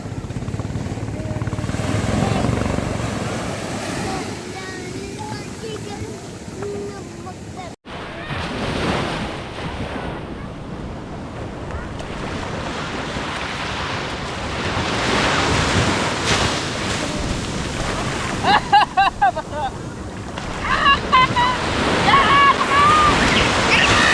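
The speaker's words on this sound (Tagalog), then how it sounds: "O hindi salpok ang alon." Ocean waves crashing and surging at a beach, a steady loud roar of surf mixed with wind buffeting the microphone, with a voice talking briefly in places.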